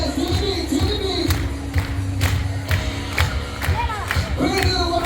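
A lively crowd at a pep rally cheers, whoops and shouts, with scattered rhythmic clapping running underneath throughout.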